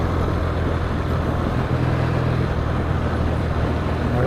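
A Triumph T140 motorcycle being ridden, its engine running steadily and pulling under acceleration with a constant road and wind rush, loud and close throughout.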